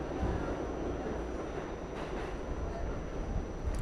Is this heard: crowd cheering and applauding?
no